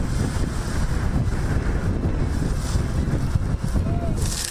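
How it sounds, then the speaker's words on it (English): Powerful winds roar across a wildfire front line in the hills north of Malibu, a loud, constant rushing buffet against the microphone with gusty surges and no clear voices. "Firefighters straining against those powerful winds on the front lines."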